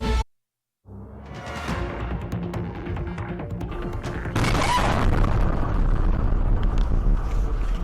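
After a moment of silence, a low rumble builds, then a loud booming blast from a restaurant explosion in China hits, followed by sustained roaring rumble and crackling debris.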